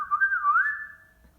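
A person whistles a short, wavering, birdlike tune imitating bird song, a single clear close whistle rising and falling before fading out.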